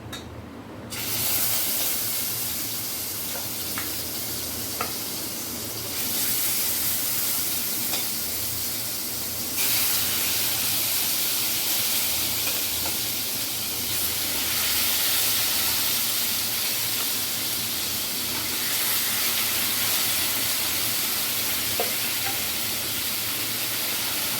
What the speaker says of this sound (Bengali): এবারে ম্যারিনেট করে রাখা চিকেনের পিসগুলো আমি এই তেলের মধ্যে ভালো করে ভেজে নেব।